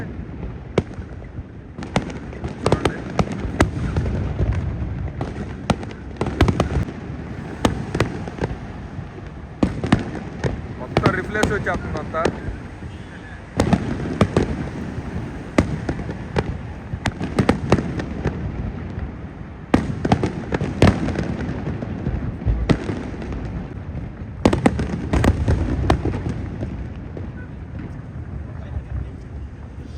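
Fireworks burst and boom repeatedly at irregular intervals over Dubai at night, close and loud, while people talk over them and wind buffets the microphone.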